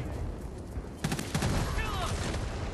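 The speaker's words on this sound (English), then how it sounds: "Grenades flying around everywhere." Gunfire and grenade blasts fill a video game shooter match, with a sudden burst of rapid shots about a second in and continuing loud combat noise after it, over a busy background.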